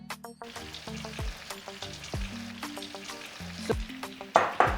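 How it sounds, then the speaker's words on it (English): Plantain slices sizzle and crackle steadily in hot oil, with an even frying hiss and occasional knocks and clinks of a utensil stirring the pan, loud and close. "now it's time to fry my plantain"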